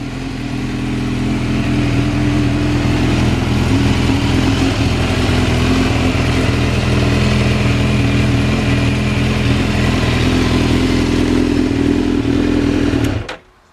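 A 2005 Suzuki GSX-R1000 K5 sport motorcycle engine is revved up loud and close, a deep continuous roar that rises and holds for several seconds before cutting off abruptly at the end.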